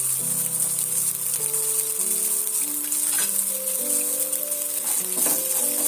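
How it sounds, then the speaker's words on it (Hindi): Green peas frying in hot cooking oil, a steady close sizzle with occasional crackles, heard under a continuous background melody. "मटर के दानों को मैं 2-3 मिनट फ्राई कर लूंगी अच्छी तरह से।"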